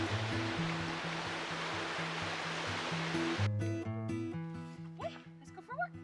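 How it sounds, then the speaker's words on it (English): A river rushes as a steady broadband wash for about three and a half seconds, then drops away abruptly, leaving a quieter scene with steady tonal sounds and a few short bursts. "There's the river."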